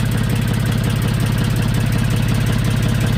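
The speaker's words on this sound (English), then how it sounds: "Noisy engine." Narrowboat engine running loud and close, a steady low diesel idle with a fast regular thumping pulse and mechanical clatter above it, continuous throughout with no talk.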